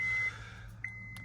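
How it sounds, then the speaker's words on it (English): A single thin electronic beep tone sounds faintly near a Honda Stepwagon RF7 during windscreen washer nozzle repair, cutting off and then returning, steady and quiet against a low hum. "Sorry about the beeping noise."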